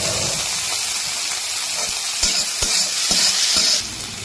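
Chopped onion and tomato fry together in oil for a Bengali-style mustard rohu fish curry, a steady close sizzle with scattered stirring clicks and scrapes.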